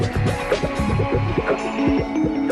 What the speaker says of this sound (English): A pre-cut piece of cotton is slid into the space reserved for the gusset and automatically sewn